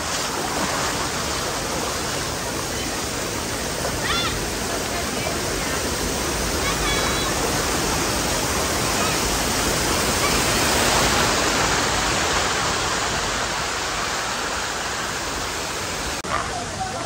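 Cold, fast-flowing shallow stream water at a resort in Nagcarlan, Laguna, a continuous loud rushing wash that stays steady throughout, with a faint voice now and then.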